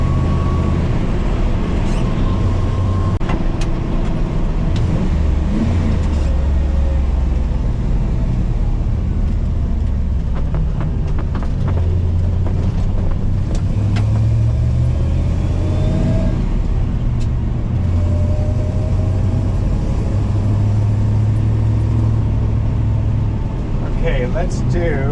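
A 1977 Toyota FJ40 Land Cruiser on a test drive, its engine droning low and steady from inside the cab with gear changes and shifts in revs, while someone talks over it throughout.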